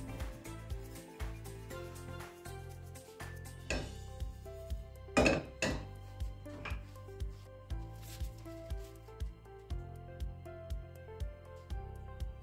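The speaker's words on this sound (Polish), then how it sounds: "Mieszamy łyżką drewnianą albo z silikonu." A wooden spoon stirs melting sugar in a pot, giving off steady, rhythmic knocks and clinks against the pot's sides, with a brief scrape in the middle, all set against background music.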